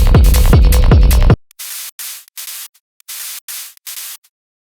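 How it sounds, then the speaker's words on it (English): A chopped crash cymbal sample for a dark hard techno track: one full noisy hit, then a stuttering series of short clipped bursts separated by abrupt silences, loud and bright with no voice. "So look at how I chopped up this crash here."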